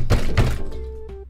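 Someone bangs twice to imitate knocking on a door at 3 a.m., making two loud, close, dull thumps about a third of a second apart, followed by a short sustained tone.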